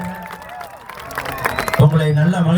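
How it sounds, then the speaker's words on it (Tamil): A crowd applauds at a live comedy stage show in Jaffna, Sri Lanka, with clapping and cheering rising over the final second after a stretch of faint hubbub. "நல்லா ஜோர கைதட்டுங்க."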